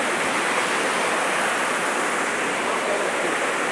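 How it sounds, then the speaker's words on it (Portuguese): Dense, continuous roar of a waterfall on a motorbike trail, loud and close, a broadband rushing wash that stays steady without breaks, with no voices over it. "Vamos ver Chiquinho atravessando a cachoeira"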